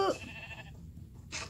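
Sheep bleat in the Minecraft video game at feeding time, one short bleat at the start and another after a brief pause, close and moderately loud, with no talk over them.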